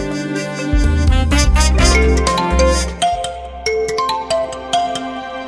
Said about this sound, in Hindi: तुम्हारे पति परमेश्वर का फोन है।